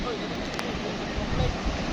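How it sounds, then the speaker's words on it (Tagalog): Large ocean waves roll and hiss as a steady, dense wash of surf, fairly loud and unbroken, with no voices over it. "Tignan nyo naman po ang alon"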